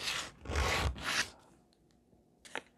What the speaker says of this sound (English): they don't fit, so that means I have to sand them off